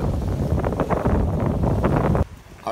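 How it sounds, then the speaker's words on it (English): Strong, gusty wind buffets the microphone on a beach with waves near the shore. The rumble is loud and close and drops away abruptly near the end, with no voices. "Very, very windy day,"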